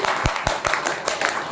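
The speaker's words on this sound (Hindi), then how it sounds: "तो प्रताप भाई के लिए जोरदार तालियां होनी चाहिए" An audience at a diet seminar claps loudly for a cook, a dense burst of handclaps with several sharper individual claps standing out, close and continuous throughout.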